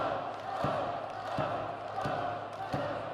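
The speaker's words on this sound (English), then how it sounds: "That chant by the Wenzhou crowd trying to urge the challenger" Wrestling crowd in Wenzhou, China, chanting in a steady rhythm of loud thumping beats under a dense arena roar.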